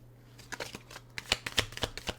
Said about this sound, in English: Let me shuffle, get one more.